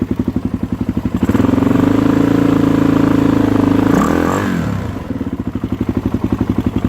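A 2013 Suzuki DRZ400SM motorcycle engine idles close by with a steady thumping single-cylinder pulse after its first start, swelling briefly into a louder, smoother rev before settling back to idle.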